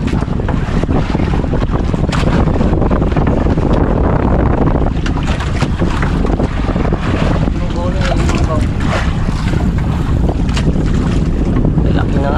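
Strong wind buffets the microphone in a constant roar while waves wash around a fishing boat at sea, with occasional voices under the noise.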